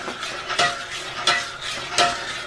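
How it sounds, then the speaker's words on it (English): A spoon stirs an apple juice mixture in a pan for pulled pork, making three rhythmic scraping strokes about two-thirds of a second apart over a soft, continuous sizzle. "And we throw that all together in the pan here. And then we just start to stir it up."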